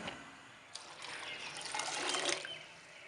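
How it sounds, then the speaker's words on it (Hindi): Cooking water is poured off boiled drumstick (sohanjna) pods, a faint, soft splashing trickle lasting a couple of seconds. "अब हम इसका ये वाला पानी फेंक देंगे।"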